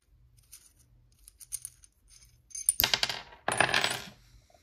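Screws on an Umarex Fusion 2 airgun scope mount are turned out, giving faint clicks and then two short bursts of close, bright metallic grinding and rattling.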